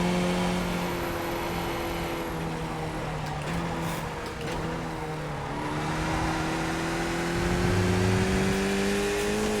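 A race car engine drones steadily through a sim racing endurance race, its harmonic whine holding roughly level and then climbing in pitch as it revs up near the end, with no talk over it.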